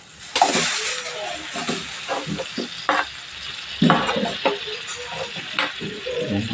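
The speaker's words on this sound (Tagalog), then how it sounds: "Ito na guys, ilagay na natin yung ating sibuyas." Onions sautéing in oil in a pan for a buttered mussel dish, a crackling sizzle with scraping stir strokes in irregular bursts, a voice speaking over part of it.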